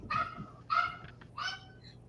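A dog barks three times at a steady pace in the background of a live home broadcast, each bark sharp and fairly close, with quiet gaps between them and no talking.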